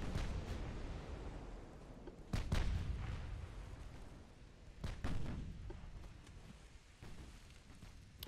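Naval guns boom from battleships in the naval strategy game Ultimate Admiral Dreadnoughts, with several heavy, sharp reports spaced a few seconds apart over a low continuous rumble of battle ambience.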